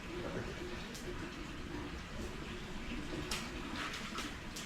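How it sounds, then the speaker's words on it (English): Heavy rain pours down steadily during a sudden downpour, a dense, unbroken hiss with occasional sharper splashes and drips close by. "kind of dumped on. We got a lot of rain real quick."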